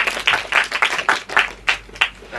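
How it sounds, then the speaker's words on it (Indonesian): Brief applause for speakers at an Indonesian film discussion panel, a small group clapping in a few uneven bursts, fairly close and loud, with no talking over it. "Tepuk tangan pada para narasumber."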